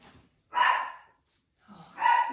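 A dog named Margot barks twice at home, two loud, close, sharp barks about a second and a half apart.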